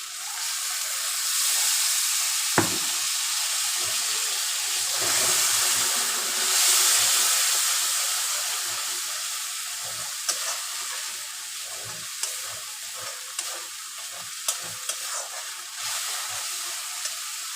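Hot water added bit by bit to hot oil with green chillies, a loud, sustained sizzling hiss that swells and eases, with scattered clinks and taps of a utensil nearby and no voices.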